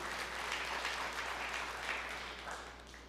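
A church congregation applauds during a sermon, a steady mass of clapping heard faint and somewhat distant over a low hum, easing slightly toward the end.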